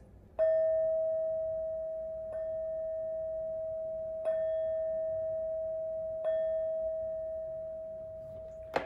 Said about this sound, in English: These next four bell sounds are to bless this reading and to align our energies